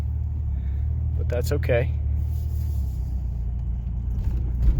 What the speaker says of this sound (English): this car runs and drives very well